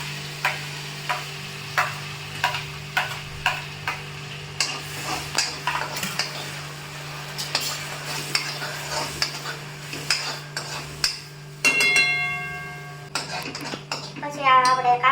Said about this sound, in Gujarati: એટલે હવે આપણે આમાં કાંદા નાખી દઈશું.